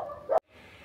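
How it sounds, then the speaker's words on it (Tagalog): A dog gives a single short bark outdoors, fairly loud and close, with faint background noise before and after. "Hindi na natigil yung mga aso kakakahol sa labas"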